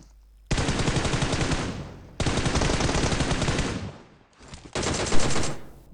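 Sustained automatic gunfire from the shooter game PUBG Mobile in a military base, coming in three long loud bursts separated by brief pauses, with no talking.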